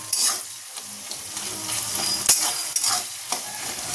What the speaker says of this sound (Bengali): এবার এতে পেঁয়াজগুলো দিয়ে দেবো।